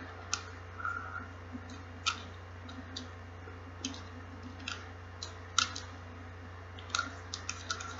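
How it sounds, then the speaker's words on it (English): Small, sharp, irregular clicks from the tension knob cap of a third-generation Revo SX fishing reel being screwed on, spaced fractions of a second apart over a low steady hum, close and faint. "once it starts clicking, you know it's on there"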